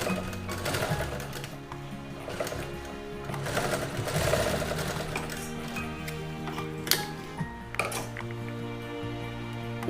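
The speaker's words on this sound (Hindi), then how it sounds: "इस तरह चेन तक हम इसे सिल लेंगे।" A sewing machine stitching the lining of a double-zipper pencil pouch runs in a close, steady mechanical whir with fast ticking needle strokes, plus a few small clicks and knocks near the end.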